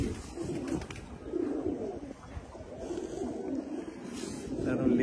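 Pigeons coo in low, rolling, repeated phrases close by, continuing steadily without a break over a faint background hum.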